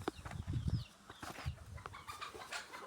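Chickens clucking in an African village, a few short, irregular clucks at moderate distance with rustling and handling noise throughout and no clear speech.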